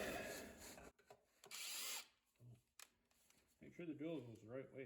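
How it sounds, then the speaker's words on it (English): A power drill bores holes to bolt something in place, with two loud whirring bursts separated by brief pauses, followed by a person talking close by. "Get some holes drilled in here and we can bolt this thing in."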